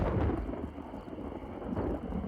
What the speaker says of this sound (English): she heard thunder. It sounded dangerously close.